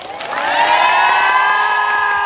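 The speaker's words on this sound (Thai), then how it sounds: "ขอเสียงปรบมือดังๆเลยครับผม" A crowd cheers and shouts at the opening of an Isan folk music event in Thailand. The sound rises quickly into a loud, sustained chorus of voices that holds steady to the end.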